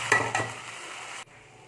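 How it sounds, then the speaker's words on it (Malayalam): Bread Manchurian being cooked as fried bread balls are stirred into chilli sauce in a pan, two quick scraping stirs over a steady sizzle that cuts off abruptly near the end. "ഇനി നമുക്ക് പൊരിച്ച് വെച്ച ഉരുളകൾ അതിലേക്ക് മിക്സ് ചെയ്ത് കൊടുക്കാം."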